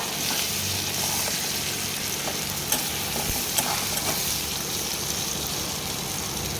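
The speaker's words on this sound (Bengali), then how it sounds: "একটু নাড়িয়ে দিয়ে দাও" Bottle gourd and shrimp curry with turmeric being stirred in a pan, a constant low sizzle and hiss with occasional soft spoon taps, close and steady, no speech.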